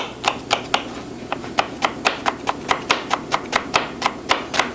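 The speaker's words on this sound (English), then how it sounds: "then we're going to do some shallot, some fine diced shallot" A knife finely dices shallot on a cutting board, with rapid, evenly spaced chopping taps that continue steadily and close by over a soft background hum.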